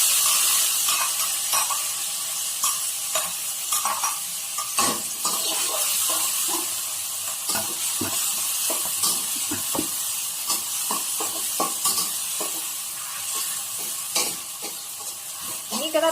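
Chili sizzles and crackles in about four spoonfuls of hot oil over medium heat for sambal ikan kerisi, a continuous close frying hiss with irregular pops and stirring scrapes throughout.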